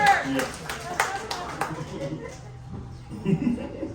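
A comedy show audience gives a short round of applause for a respiratory therapist, a quick burst of claps in the first second or so fading out, followed by quieter murmuring and talk.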